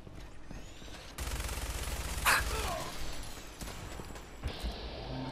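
Fallout 4 gameplay delivers a steady rattle of game gunfire, a sustained fusillade of rapid shots at moderate volume with a sharp crack in the middle and a brief tonal whoosh, no talking.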